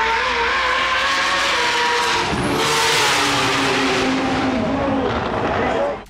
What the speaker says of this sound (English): Twin Turbo Kit go up against Anthony Maatouk driving Ibi's RH7 R32 GTR